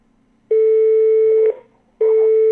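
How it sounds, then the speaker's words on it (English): Call-waiting beeps on a phone line during a call: two loud, steady electronic tones, each about one second long, separated by a short silent gap. "don't know how to permanently turn off my call waiting here because it's pretty bad"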